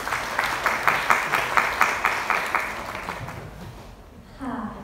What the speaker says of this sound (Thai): ขอเสียงปรบมือต้อนรับผู้บรรยายด้วยค่ะ